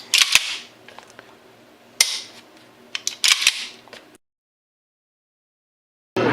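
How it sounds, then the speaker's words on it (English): Several sharp, close pistol shots from a 1911 build with a full-length dust cover crack out singly and in a quick pair, each followed by a short ring, then silence before one last sound at the end. "I'm ready to test fire"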